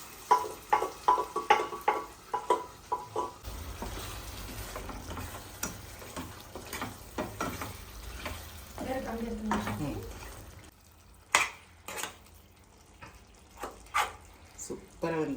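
Mutton cooks in a pan for gongura mutton, with quick ticking spoon taps at first, then a low sizzle and stirring scrapes, followed by scattered sharp knocks against the pan.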